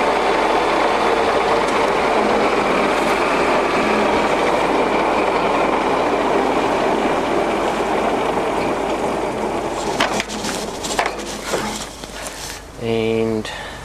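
A Union BFT-80/2 horizontal boring machine runs its spindle in a loud, continuous mechanical rumble and whir, ending in clattering gear sounds and a rising tonal whine, with faint voices in the background.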